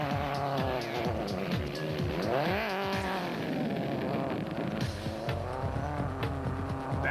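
Rally cars and trucks race in loose sand during the 2008 Nissan Dealer 400, engines roaring continuously with rising and falling revs and shifting pitch, loud and close throughout with no talk.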